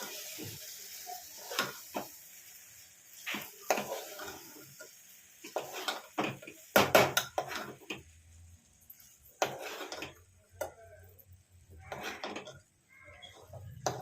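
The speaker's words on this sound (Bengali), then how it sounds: "এবার আমি একটু নাড়িয়ে নেবো ভালো করে, মশলাগুলো সব" Spices are stirred into a pot of dalia, giving soft, intermittent clinks and scrapes of a spoon against the pot, fairly quiet, with a brief busier flurry midway.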